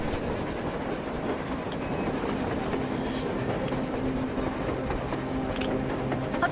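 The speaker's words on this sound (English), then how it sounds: "A train! A damn train on the surface!" Train rolling on rails in a post-apocalyptic video game, a steady dense rumble with faint rhythmic clatter throughout, moderately distant and continuous with no talk.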